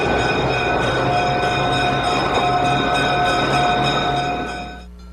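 A train engine moving through switches in a railroad yard, a steady loud rumble with sustained high tonal squeals and hums that drop away near the end.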